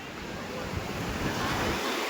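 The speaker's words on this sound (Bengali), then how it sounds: "আগে ঢেউটা কত দূর আসছে দাঁড়াও" Continuous wash of ocean waves breaking on a shore, a steady roaring surf with some wind, no talking.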